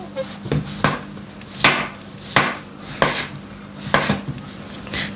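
A knife cuts king oyster mushrooms into long strips on a cutting board, giving about eight distinct, evenly spaced chops at close range with no talking.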